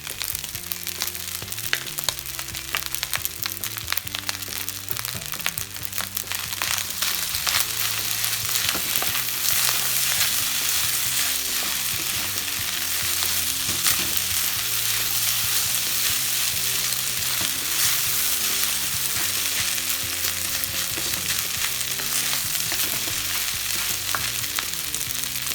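Beaten egg hits a hot wok of shrimp, broccoli and rice for stir-fried rice, setting off a loud, continuous sizzle with crackling spatter and the scrape of stirring, close-up and with no talk.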